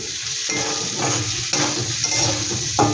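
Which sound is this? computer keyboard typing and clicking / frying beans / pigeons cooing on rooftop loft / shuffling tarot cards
frying beans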